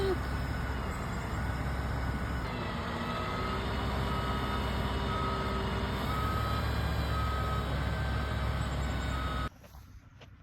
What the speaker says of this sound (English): Reversing down the road.